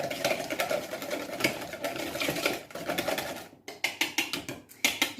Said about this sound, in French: Je mélange de nouveau.